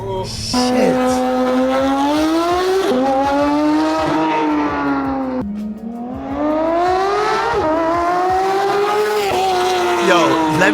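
A Porsche fitted with a new exhaust revs hard in two long, loud, rising pulls, with tires squealing over the steady engine roar.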